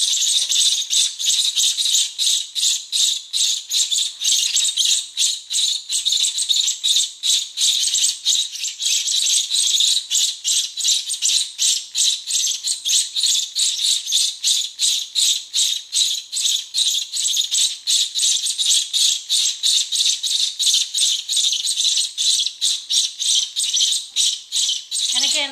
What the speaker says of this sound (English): the chicks are so loud that you can't hear us talking